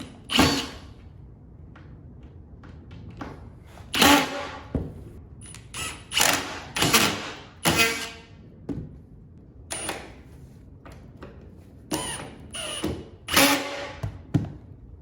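A power drill drives screws into a corner piece while a water-damaged wall is being repaired, giving repeated short bursts of whirring and creaking, several sharp loud spurts spaced through the stretch with quiet gaps between.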